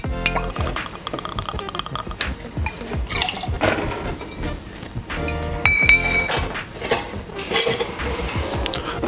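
Absolut Mango vodka is poured while a cocktail is built, the liquid running among frequent sharp glass clinks and stirring knocks from bar tools, close up.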